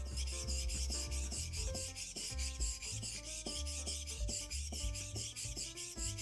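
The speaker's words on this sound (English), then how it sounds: "The key point here is to keep the blade perfectly flat against the whetstone." A skiving knife blade is pushed back and forth on a whetstone in a steady rhythmic rasp of repeated strokes, faint and close, with no talking.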